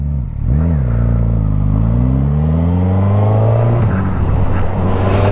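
A 2021 Suzuki GSX-S 1000 motorcycle on a road ride gives a loud, close engine note that dips briefly, then climbs steadily in pitch as it accelerates, with no voices.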